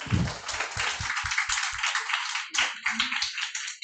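A small audience claps in a brisk burst of applause, individual hand claps audible and close, continuing steadily for a few seconds.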